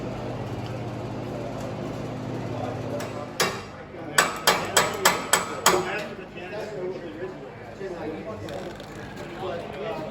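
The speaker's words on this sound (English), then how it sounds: "Need a bigger hammer." A series of about six sharp metallic hammer strikes lands in quick rhythm, preceded by a single blow, over low background noise, while working on a 1969 Triumph TR6 engine.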